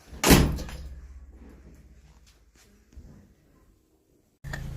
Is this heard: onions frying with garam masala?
no